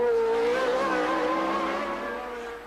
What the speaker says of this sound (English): Marc Surer has got a whole line of cars closing up behind him